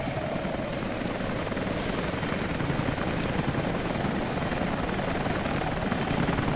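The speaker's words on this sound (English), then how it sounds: "as soon as the first helicopter goes overhead" Helicopter flying overhead in the video game Rise of the Tomb Raider, a loud continuous rotor roar with rapid blade pulsing, steady and close throughout with no talking.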